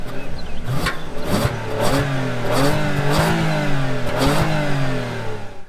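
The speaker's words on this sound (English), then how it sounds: "I want to show you engine noise, exhaust, the engine itself" A 2019 Toyota Avalon Limited engine revs up and accelerates, its pitch rising and falling through gear changes, loud and close with a rough exhaust note.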